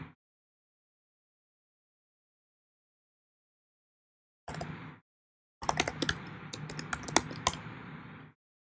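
Computer keyboard typing comes in two short bursts after a long silence, the second run a dense flurry of close clicking keystrokes.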